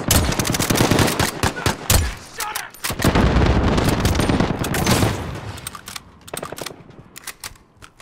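Rapid bursts of automatic gunfire from a video game shooter, loud and close, in dense volleys with short gaps and scattered single shots as it tapers off.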